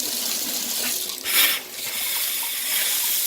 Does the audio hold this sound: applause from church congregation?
no